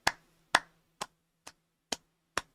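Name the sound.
hand clapping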